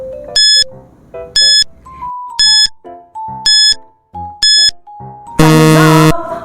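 A quiz countdown timer plays a rhythmic series of bright electronic chimes with short tones between them, ending in a loud, buzzy final alarm tone.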